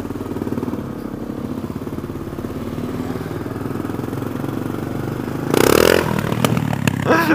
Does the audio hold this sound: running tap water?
no